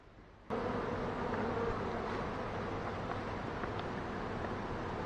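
A dense, continuous buzz of many wasps around a Flow Hive beehive starts abruptly and holds steady and close, with no talking.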